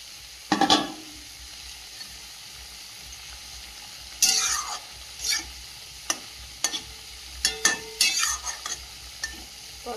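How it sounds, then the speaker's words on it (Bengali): Fried fish stirred into a reduced okra curry in a pan, a soft background sizzle with sharp scraping and clinking stirs, a loud one early, then a busier cluster of strokes later, close up with no talking. "এই পর্যায়ে ভেজে রাখা মাছগুলো দিয়ে দেবো।"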